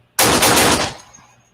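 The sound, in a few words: gunshots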